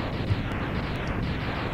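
Dense, sustained rumbling explosions fill the space in the Mega Man X video game, a continuous loud low roar with a few brighter bursts poking through, no voices present.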